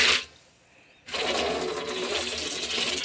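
High-pressure water blasting into a storage drum during washing: a hiss that cuts out briefly, then returns as a loud, steady rushing spray with no speech.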